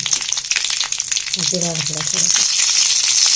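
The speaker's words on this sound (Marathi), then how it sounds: "आईने तेल टाकून घेतलं आहे जिरा ना राई मोहरी टाकून घ्यायचे" Cumin and mustard seeds crackle and sizzle in hot oil in a heated pot, a steady dense frying hiss throughout with a brief low voice or tone near the middle.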